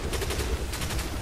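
Rapid automatic gunfire rattles in a dense, continuous burst during co-op play in the shooter Destiny 2, loud and close with no voices over it.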